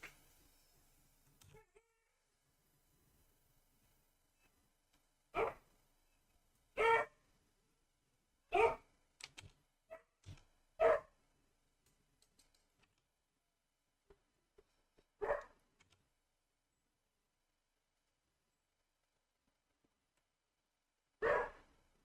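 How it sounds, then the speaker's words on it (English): Neighbors' dogs bark in the distance, a few scattered barks and short clusters spaced across a quiet stretch, faint and far off with no talk. "neighbors have got some dogs"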